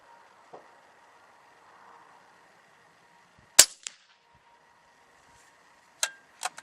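A .35 caliber air rifle firing 81.02 grain JSB pellets, giving a few sharp isolated cracks, each followed by a faint distant impact tick, against a quiet background with a low hum.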